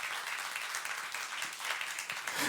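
A church youth-service congregation claps during a sermon, giving brief, fairly soft, continuous applause that keeps an even level throughout.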